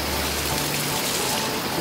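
A small waterfall in a Mindoro forest gives a steady, close wash of splashing, rushing water, loud and continuous with no other sounds through the short stretch.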